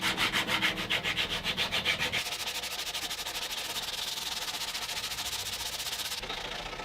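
Rasp and hand sanding on the wood of a cigar box guitar, starting with quick rhythmic scraping strokes, then shifting to a steady, continuous rasping friction that runs on close and fairly loud.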